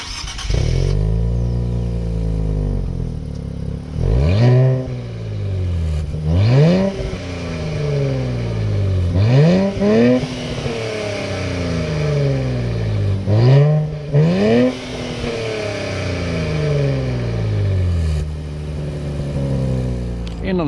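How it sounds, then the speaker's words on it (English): A Nissan Z Sport's exhaust revs repeatedly from idle, with several sharp rises and falls in engine pitch spaced a few seconds apart, loud and close, with a steady idle rumble between. "And speaking of the exhaust, let's hear how that sounds."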